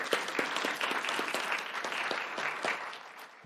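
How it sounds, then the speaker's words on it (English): An audience applauds two speakers at a law school event, a dense, steady burst of many hands clapping that continues evenly and fades slightly toward the end. "Let's give another big round of applause for our two speakers."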